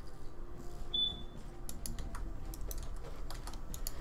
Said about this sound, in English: I'm using a keyboard right now